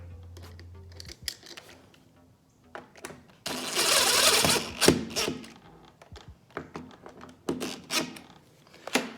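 A hand screwdriver drives the long lockset screws through a door during a deadbolt installation, making a series of light scraping clicks and ratcheting ticks in short bursts, with one longer rasping stretch partway through.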